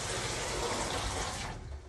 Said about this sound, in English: This means we can use all of our other water appliances in the van, such as our shower